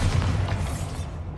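A Bombarda blasting spell exploding in the game Hogwarts Legacy: a single deep, rumbling boom that decays over about a second, heard alone.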